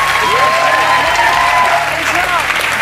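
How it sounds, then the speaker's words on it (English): Audience applause at a weight-loss motivational event, steady dense clapping filling the room with crowd noise and faint voices mixed underneath throughout. "Let's give a big round of applause for everybody here."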